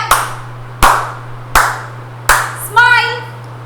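Four or five sharp, evenly spaced claps from children in a nursery class, each a crisp broadband burst about 0.75 s apart, with a steady low hum beneath and a brief voice at the end.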